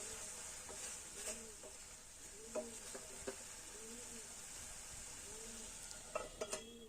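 A spoon stirs tomato and soya keema in a cooking pan, scraping in intermittent strokes over a soft, constant sizzle, with a few light clinks of metal against the pan.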